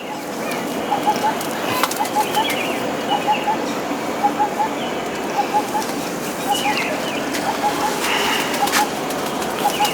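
Pigeons coo softly in a steady repeating rhythm, a string of short, evenly spaced calls over a constant background hiss.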